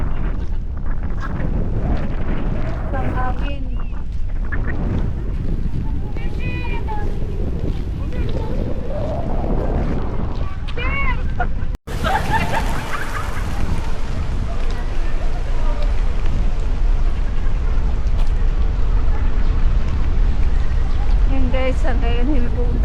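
Strong wind buffets the microphone throughout, a constant roaring rumble, with a person talking underneath, near a bridge in Kobe, Japan.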